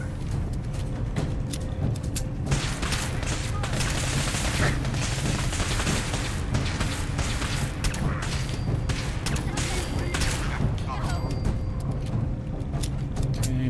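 Pistol gunfire in the video game Fallout 4, dense repeated sharp shots and booms in a busy fight, crowded with other combat noise throughout.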